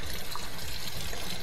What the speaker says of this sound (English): Just add a little bit of hot water.